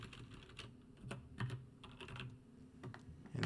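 A code being typed on a computer keyboard: quick, irregular, faint keystrokes tapped close by with no talking.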